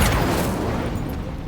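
An Incendio fire spell in Hogwarts Legacy bursts loudly and close, a single whooshing fiery boom that fades over about a second and a half.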